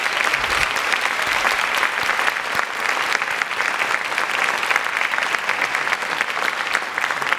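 An audience at a university event in Delaware claps warmly, with steady dense applause that stays loud and even throughout, with no pauses or voices standing out.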